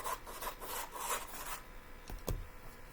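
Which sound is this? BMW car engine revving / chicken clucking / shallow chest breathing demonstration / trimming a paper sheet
trimming a paper sheet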